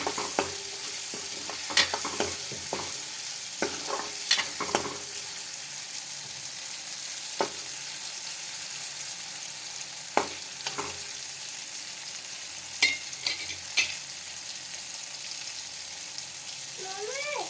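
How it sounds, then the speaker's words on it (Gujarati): Tomatoes sauté in hot oil while making kadhi, giving a steady close sizzle broken by sharp spoon clinks and scrapes against the pan, with no talking. "ટમેટાને સારી રીતે તેલમાં સાંકળી લેવાના છે."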